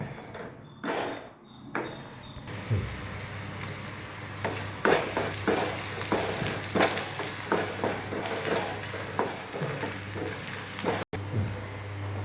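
Onions frying in a small spoonful of coconut oil for a small-fish curry, a continuous soft sizzle broken by repeated scraping stirs of a spoon in the pan.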